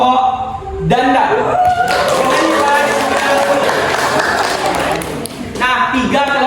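A classroom of students bursts into applause during a group discussion lesson, loud dense clapping lasting several seconds, with voices briefly audible before and after.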